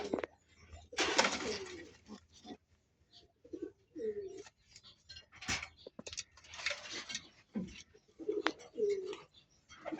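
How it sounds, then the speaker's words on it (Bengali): Pigeons kept for sale coo nearby in soft, repeated throaty bursts, alongside wing flutters and small clattering noises in a quiet setting. "এই মোট 3 জোড়া কবুতর বিক্রি করবো।"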